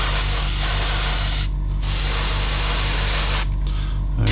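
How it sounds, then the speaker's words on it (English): An airbrush sprays Russian-style green paint onto model tyre hubs, a steady close hiss with two brief pauses and a faint low hum underneath. "All right, so we just spray this"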